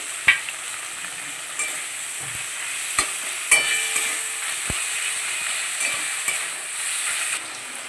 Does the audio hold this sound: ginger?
yes